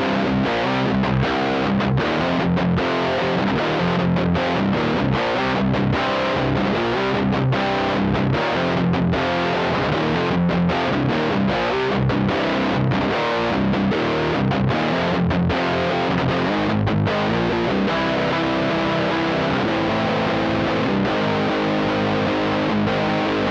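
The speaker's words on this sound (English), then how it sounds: "What you're hearing is the Dapper on its own into the interface." Electric guitar played through a Valeton Dapper effects strip straight into a Tascam audio interface with no amplifier, giving a continuous, loud, distorted tone with chorus shimmer as chords and riffs are strummed steadily throughout, no voices.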